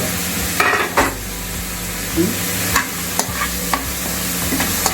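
Mutton keema masala with turmeric and chilli powder being stirred and sautéed in a pan: a steady sizzle of frying meat runs throughout, broken by scraping spoon strokes and a few clinks against the pan, with no talking.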